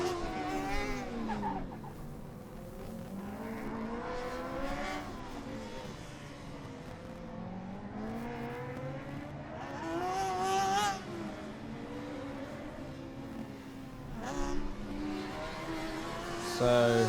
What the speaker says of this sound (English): The revving of the 4-cylinder engine